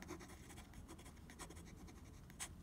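A Venus fountain pen with a broad nib scratches steadily across paper while drawing, a close, continuous dry scraping with small rhythmic strokes and a brief sharper tick near the end.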